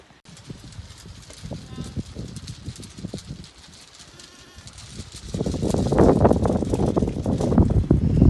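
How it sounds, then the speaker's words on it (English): Sheep and lambs on a farm field bleat and call to each other in repeated overlapping cries, sparse at first, then a dense, louder chorus of many animals in the second half. "Everybody calls for their lambs and they call for their mummies"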